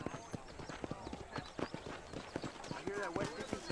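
Hoofbeats of a ridden horse in the western video game Red Dead Redemption, a quick, steady clip-clop close by with a brief whinny-like call, under a voice speaking.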